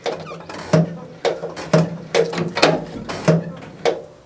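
Rhythmic mechanical strokes of a brake pedal being pumped while bleeding the brakes on a 1969 VW Beetle, about eight evenly spaced clunks with squeaky ratcheting, close and fairly loud, with no talk.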